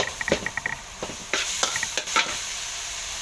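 Pork with holy basil, dried and bird's eye chillies and long beans is stir-fried in a pan, with a soft steady sizzle under sharp scraping and tapping of a spatula against the pan in quick irregular bursts.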